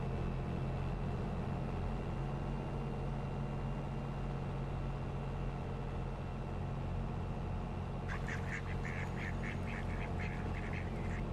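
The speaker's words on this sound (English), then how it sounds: "the duck scared the shit out of me" A duck quacks in a rapid run of calls near an oat field during harvest, loud over the steady drone of machinery that fills the whole stretch.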